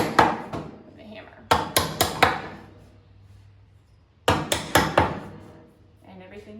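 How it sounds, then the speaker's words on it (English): A hammer taps nails flush into wood while a pedestal table base is built, giving two clusters of sharp, close strikes in quick sets of three or four, with faint talking between them. "all you have to do is just tap those down"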